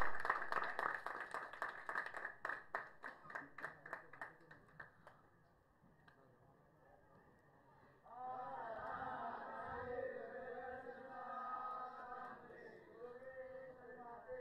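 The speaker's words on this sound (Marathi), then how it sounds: "जोरदार टाळ्या बामनोली टीम साठी" Applause for the Bamnoli cricket team at a tournament prize distribution in Shembadi, heard as a string of crisp, evenly spaced claps that thin out after a few seconds, followed by an announcer talking over a PA.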